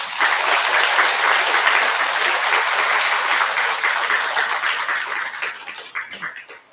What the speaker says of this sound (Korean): 능인 스님께 큰 박수 한번 부탁드립니다.